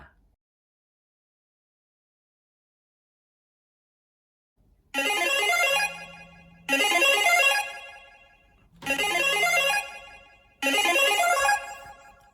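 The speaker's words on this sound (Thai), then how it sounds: "มีแจ้งเตือนเมื่อแบตชาร์จเต็มนะครับ" An Android phone app sounds its battery alert when the charge reaches the set level: a ringtone melody plays in four separate bursts after about five seconds of silence, loud and close, with no talking.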